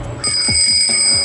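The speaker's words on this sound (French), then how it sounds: "C'est une sonnette, vas-y, essaie-la." A bicycle bell rung on a homemade Mad Max–style bike, a sustained bright metallic ring with a few rattling strikes underneath, close and clear with no talking.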